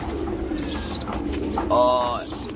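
Young pigeons coo at close range while feeding, with soft repeated calls and brief chirps over a steady background hum.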